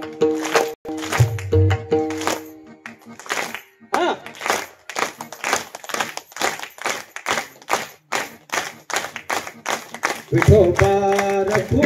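An audience at a devotional kirtan gathering claps in unison, sharp rhythmic claps repeating steadily for several seconds, with a voice speaking and music at the start and end.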